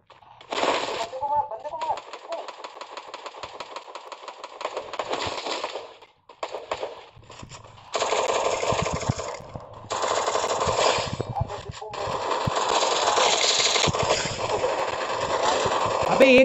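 Gunfire from a scoped gun in the video game Free Fire: rapid bursts of automatic shots in repeated volleys with short gaps, fairly loud, mixed with other game effects.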